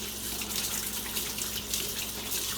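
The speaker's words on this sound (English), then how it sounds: "I'm going to rinse my hands." Water runs steadily from a kitchen tap while hands are rinsed during cooking, a continuous close hiss and splash with no talk.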